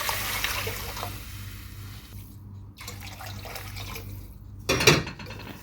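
Water pours steadily from a tap into a cooking pot before rice goes in, a continuous close-up rush over a low background hum, ending with a brief louder splash.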